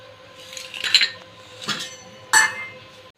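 Metal cookware clinks a few times, close and fairly loud, as a kadai is set on a stove and oil is added for frying okra; three separate knocks stand out against a quiet background.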